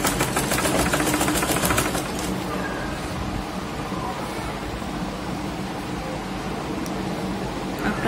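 A sewing machine stitches a prayer hijab made from an orna scarf, giving a steady, loud mechanical whir with rapid pulsing stitches at the start, then running continuously up close.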